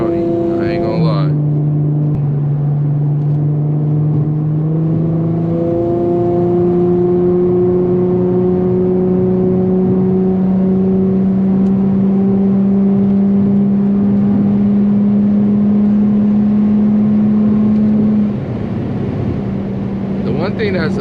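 Infiniti G35 engine and exhaust droning at freeway cruise, a loud, steady low hum with slowly shifting pitch that fills the cabin from inside the car for the full length, with no talking over it.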